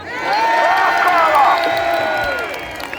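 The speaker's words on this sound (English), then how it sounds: "ladies and gentlemen, let's hear it for Connor." A large crowd at an outdoor rally in Glasgow cheers and shouts loudly, with whoops rising over a steady roar that swells and then fades slightly toward the end.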